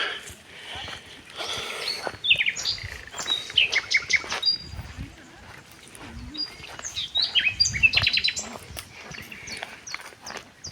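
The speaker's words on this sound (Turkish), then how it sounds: "Kuş sesleri, kuşlar." Birds chirp and tweet in quick high bursts in a cherry orchard, several calls overlapping, over a soft rustling background with occasional low thuds.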